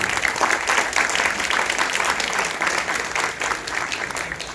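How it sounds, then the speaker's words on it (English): A large crowd at a Hidabroot Elul event with Rabbi Paysach Krohn bursts into loud, sustained applause, a thick roar of clapping that stays strong throughout and eases only slightly toward the end. "the whole crowd should stand up and cheer for him"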